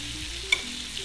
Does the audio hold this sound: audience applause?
no